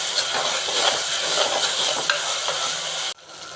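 Tomatoes sauté in oil in a pan while an egg fry is prepared, giving a steady, close sizzle with light stirring scrapes that cuts off abruptly near the end.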